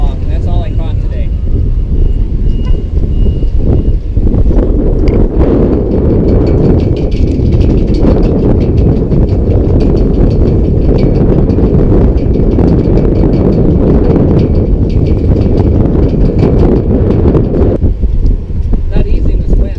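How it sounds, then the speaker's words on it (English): Strong wind blowing at sea off Curacao buffets the microphone as a loud, steady roar that continues unbroken throughout, with faint voices underneath. "Not easy in this wind."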